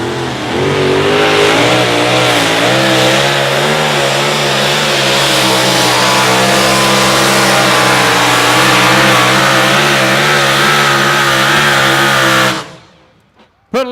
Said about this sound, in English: I got a truck sneaking up here.